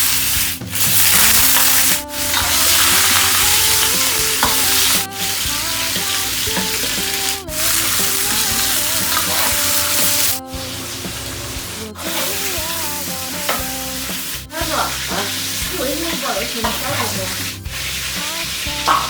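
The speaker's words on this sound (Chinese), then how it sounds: "先少下点油，把肉煸一下" Pork belly stir-frying in a little oil in a wok, a steady loud sizzle broken by scraping stirs, with a melodic backing track running underneath.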